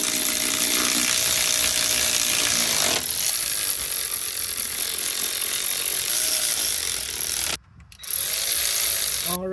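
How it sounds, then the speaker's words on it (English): Ratchet wrench tightening bolts on a Mitsubishi's Aisin AW30-40LE/AW4 transmission valve body, a steady run of close rapid pawl clicks with a brief pause near the end. "Get them tight enough, and then we'll torque them down the spec."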